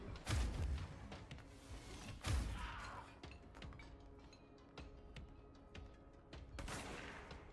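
Gunfire in Control Ultimate Edition: a few heavy, thumping shots punctuate the scene, with two strong bursts early and scattered lighter shots after, all fairly quiet.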